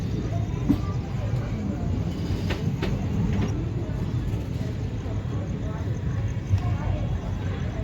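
A Purna–Parli passenger train rolls along the track, a continuous loud rumble with faint clickety-clack and occasional knocks, heard from on board.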